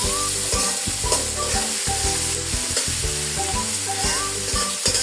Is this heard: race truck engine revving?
no